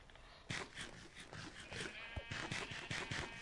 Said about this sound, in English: Oh, yes, you're getting sheep.